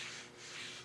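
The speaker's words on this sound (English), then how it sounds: "a lot of sanding" Sanding a copper beech wood tray by hand, a steady, close rubbing rasp that swells and eases over under a second, heard alone.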